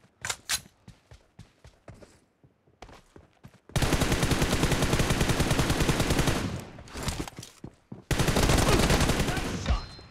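Gunfire in the mobile battle royale game BGMI, with scattered single shots and footsteps followed by two long, loud bursts of rapid automatic fire, close and dominant.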